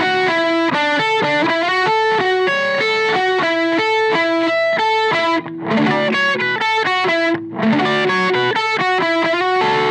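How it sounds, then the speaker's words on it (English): Electric guitar through the bridge pickup with a Koch Pedaltone Poweramp boost engaged, playing a loud, saturated run of bright distorted single notes and chords in quick succession, with two brief gaps, no talking. "The next boost is the Poweramp boost."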